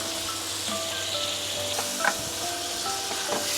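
Meat sautéing with coarse black pepper and fish sauce in a hot pan for pansit palabok, a steady close sizzle with a few stirring scrapes and clinks.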